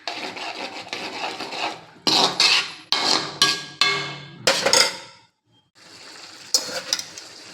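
Masala frying in mustard oil in a pan for a Bengali-style fish curry, bursts of scraping stirring and crackling sizzle in uneven strokes, close and loud with a brief pause, no talking.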